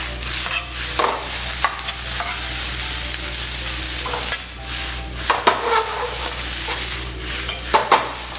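Shredded pork and egg fried rice stir-fried in a hot pan, with a steady close sizzle broken by repeated scraping and tossing strokes of the spatula, and no voices.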